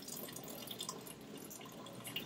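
Kombucha trickles unevenly from a jar spigot that is partly clogged with SCOBY, a soft continuous splashing and dripping of liquid heard at close range.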